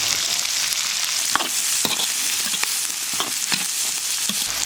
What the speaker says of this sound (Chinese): 炒上色再炒豆角